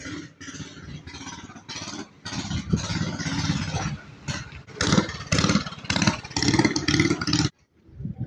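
Engine of a vendor boat running on Khlong Bang Noi canal in Taling Chan, Bangkok, a steady loud motor drone with revving surges and clatter, cutting off near the end.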